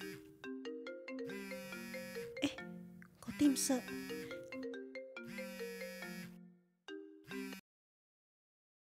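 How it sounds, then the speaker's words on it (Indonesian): A phone ringtone plays a repeating electronic melody at night, loud and close, in several phrases with a short break, and a voice speaks briefly over the middle. "Siapa nih telepon malam-malam?"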